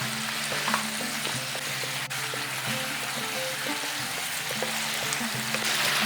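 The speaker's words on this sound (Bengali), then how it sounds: "আদা কাঁচা লঙ্কা বাটাটাকে ভালো মতো কষিয়ে নিয়েছি।" Ginger and green chili paste frying in a pan with a constant dense sizzle, close and steady throughout, accompanied by occasional faint utensil clicks and no talk.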